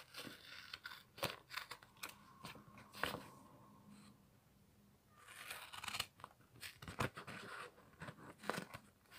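Scissors snip and crinkle paper while trimming the overhanging edges of a handmade 18th birthday card, a run of close, crisp cuts interrupted by a quieter pause, then more snips.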